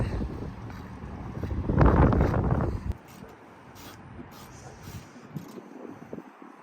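Wind buffets the microphone in a loud rumbling gust, then dies down to a quieter, steady outdoor rush with faint scattered noises.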